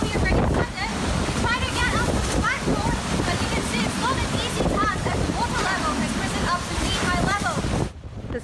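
Super Typhoon Mangkhut wind roars steadily against the microphone as high waves crash and surge along the seafront, a dense, loud, continuous din without pause.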